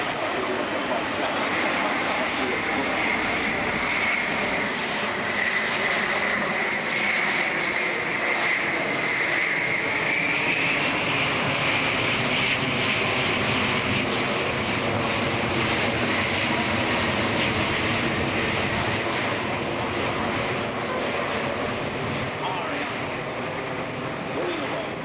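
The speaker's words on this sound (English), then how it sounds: "this huge aircraft, majestic A380, over the birthplace of British aviation here at Farnborough, drifting past" Airbus A380 airliner flying past at the Farnborough airshow, a distant, sustained roar of jet engines with a slowly shifting tone, heard under a commentator's talk throughout.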